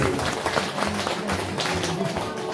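A crowd of devotees claps together at a Shiv Puran katha, a dense, steady patter of hands that runs the whole time with voices mixed underneath.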